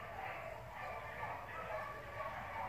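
Rabbit hunting dogs bark and yip in the distance during a winter field hunt, faint and scattered over a steady outdoor background.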